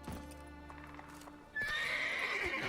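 Geralt's horse Roach in The Witcher 3, on the Skellige isles, gives a whinny with hoof clip-clops beneath it, and a louder, brighter burst of game sound takes over in the second half.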